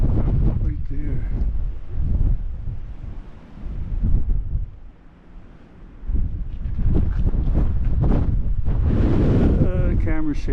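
Strong wind at the Canyon de Chelly overlook in Arizona buffets the microphone in loud rumbling gusts, easing briefly in the middle before surging again, with a person's voice faintly heard beneath.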